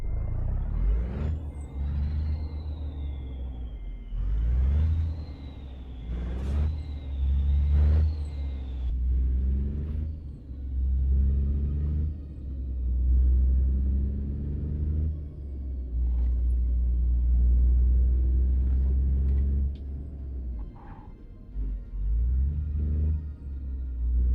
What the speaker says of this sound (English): I just can't believe how good the engines sound in this. It's just... Ooh, that low rumble.